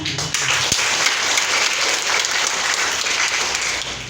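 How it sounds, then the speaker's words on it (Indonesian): Dense, steady hand clapping from an audience at an Easter celebration held by a vocational school community in Kupang, a continuous crowd applause close and fairly loud throughout. "Tapi tetap kita tepuk tangan, itu kemuliaan untuk Tuhan."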